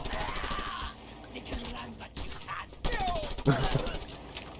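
Bursts of rapid gunfire and mechanical clatter from the video game Just Cause 2, with a louder volley near the end over a busy background.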